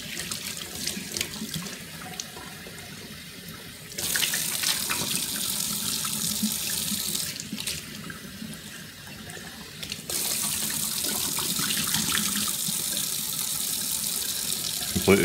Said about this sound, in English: Give that just a scrub with the scrubby.